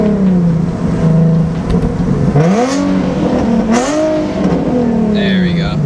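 A Nissan 370Z with a Tomei exhaust revs hard close by, a loud raspy engine climbing and falling through several throttle blips with a brief voice in between.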